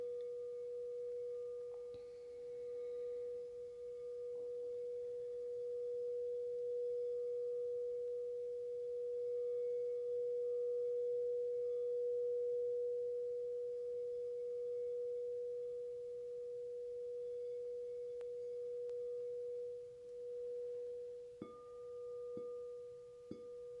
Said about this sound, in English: I'm going to continue to play the sound bowls for a few minutes